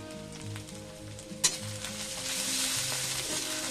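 Spices fry in hot oil for bathua saag, a steady close sizzle with a sharp clink of a utensil partway through and the frying growing slightly louder afterward.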